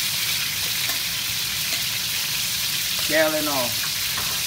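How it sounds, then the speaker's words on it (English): Floured chopped lobster pieces, shell and all, deep fry in hot oil with a continuous, even crackling sizzle, while a voice speaks briefly over it near the end. "The flour, you fry them all at the same time with the other parts."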